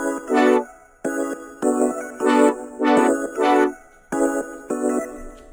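A bright synth brass stab plays in rhythmic bursts over a steady synth lead melody, a chill, looping pattern with no voices.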